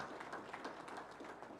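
An audience claps at a USAID health learning event in Uganda. The applause is a dense, steady patter of many hands throughout, with no voices heard.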